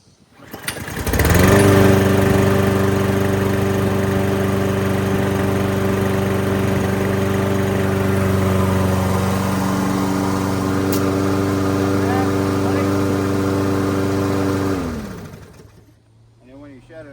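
Toro Recycler Max petrol lawn mower engine starts up and runs at a steady, loud, close drone for about thirteen seconds before cutting off and spinning down.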